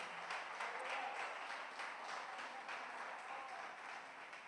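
Applause from a church congregation in a worship service, a fairly faint, even, continuous patter of many hands heard from a distance.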